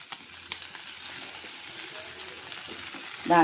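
Whole prawns sizzle in a frying pan as they are stirred gently so the heads stay attached, a soft steady crackle with a few sharper clicks, a brief voice rising at the very end.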